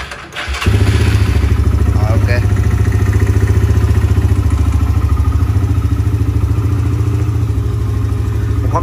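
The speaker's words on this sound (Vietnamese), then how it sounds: "nổ máy đại cho anh em một con chơi đi" A Suzuki EN motorcycle engine starts after a brief rattle, then settles into a loud, steady, close idle with an even pulsing beat that continues to the end, with no talking.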